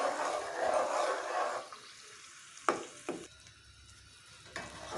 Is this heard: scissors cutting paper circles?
no